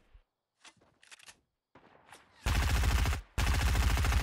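Automatic gunfire rattles in a Fortnite Battle Royale match, two loud dense bursts following a few scattered softer clicks and rustles, the second burst starting after a brief gap.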